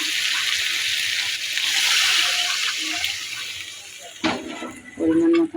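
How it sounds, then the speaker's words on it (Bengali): Water pours steadily into a pan of spice-coated katla fish for a fish curry, a continuous rushing splash, followed by a few clattering bumps and a brief louder gush at the end. "এবার পরিমাণ মতন পানি দিয়ে দেবো"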